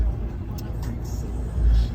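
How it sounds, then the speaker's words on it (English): A Ram 1500 Limited EcoDiesel pickup with air ride suspension driving, heard from inside as a steady low road rumble with a slight swell near the end. "it's my first time driving my truck, and I love it so far"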